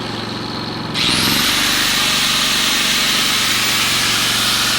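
Angle grinder spinning up at about one second and then running steadily at high speed, powered from a Predator 3500 inverter generator, a loud continuous whine alone with no talk.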